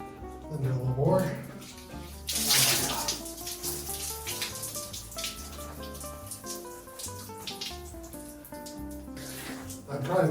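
Water poured over a soaped body to rinse during desert bike-packing in Namibia, splashing in uneven gushes with louder bursts near the start and end, while a voice talks quietly underneath.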